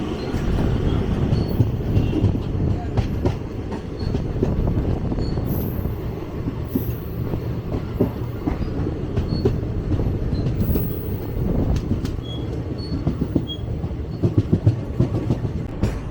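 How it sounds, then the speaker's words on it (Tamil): An electric train rolls past close by in Chennai, its wheels clattering and squealing faintly in a continuous rumble that lasts throughout, with no talking. "நம்ம சைடில் ஒரு எலக்ட்ரிக் ட்ரெயின் போயிட்டுருக்கு."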